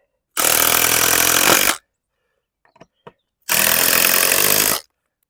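A power drill drives 8mm hex-head wood screws into a polytunnel door on an Outsunny poly tunnel, giving two loud whirring bursts of just over a second each, separated by a pause with a few faint knocks.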